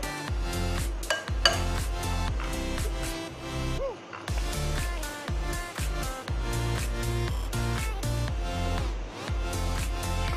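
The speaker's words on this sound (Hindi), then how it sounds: "मिला के इसको चला देते हैं अच्छी तरह" Repeated metallic scraping and clinking of a spoon stirring dried mango powder into dal in a pot, in a quick, irregular rhythm, close by.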